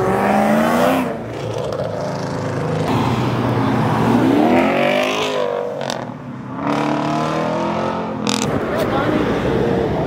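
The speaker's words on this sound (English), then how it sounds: "Try to do a fucking burnout in a front wheel drive" A front wheel drive car at a cars and coffee meet revs and tries a burnout, engine rising and falling with tire squeal, loud and close while people talk and shout over it.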